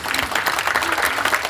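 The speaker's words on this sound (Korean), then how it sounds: "다시 한번 뜨거운 박수를 부탁드리겠습니다" Warm, dense applause from an audience filling a hall at a book concert, steady and loud throughout a short burst with no break.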